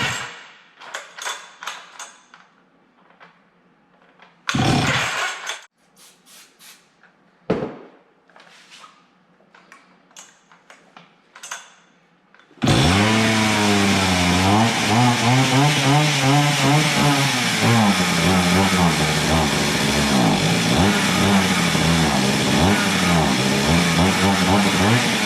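An antique Stihl 031 chainsaw, carburetor freshly cleaned, coughs through a few short sputtering start attempts with pauses between, then catches and runs loud and steady, revving up and down close by.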